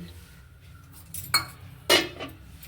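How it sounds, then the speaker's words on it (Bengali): Metal pot lid lifted off a pan of cooked fruit chutney in a home kitchen, giving a light scrape and then a louder metallic clink near the end, close by with faint background noise. "আমি এবার ঢাকনাটা খুলে নেব আমার চাটনি রেডি"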